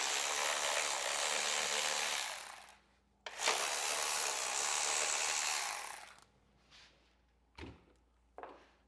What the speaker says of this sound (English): We're going to remove these 2 bolts.